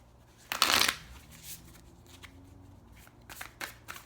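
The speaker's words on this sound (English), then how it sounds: "I'm going to pull another card" Tarot cards shuffled by hand: a loud, close riffle burst, then quieter slides and taps as a card is drawn, with no talk.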